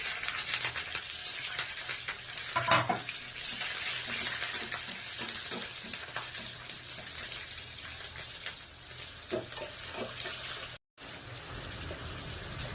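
Mutton pieces fry in a pan for mutton fry, giving a soft, steady crackle and patter of sizzling oil with scattered pops. The sound cuts out for a moment near the end.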